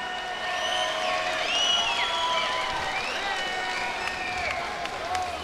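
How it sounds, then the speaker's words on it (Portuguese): A crowd applauds for MMA fighter Thomas Almeida at an SFT MMA event, steady dense clapping at moderate loudness mixed with cheering, whistles and voices throughout. "uma salva de palmas pra Thomas Almeida"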